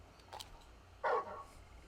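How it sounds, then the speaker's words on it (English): Large dog companion in the video game Final Fantasy XVI makes a short, quiet bark or yip, a faint earlier sound then one brief louder vocal burst, alone without speech. "You're just a big puppy, aren't you? A very big puppy."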